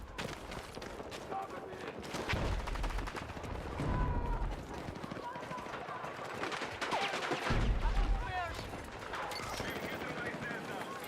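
Bursts of gunfire in Battlefield 6 crackle through busy battlefield ambience, with heavier thumping volleys recurring every few seconds under a player talking.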